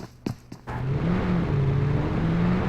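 In PUBG Mobile, a couple of sharp clicks or shots come first, then a car's engine drones steadily with a wavering pitch as the vehicle is driven, fairly loud and without talk.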